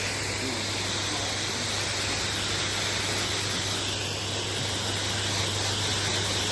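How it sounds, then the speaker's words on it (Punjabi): A water spray washing a tractor hisses steadily at close range, a dense, even rush with no pauses and no talk. "ਲੈ ਪਾਣੀ ਮਾਰਦੀ ਜਿੱਥੇ ਢੱਕਣਾ ਟਰੈਕਟਰ"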